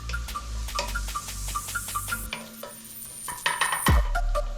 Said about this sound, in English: Give that a nice little stir.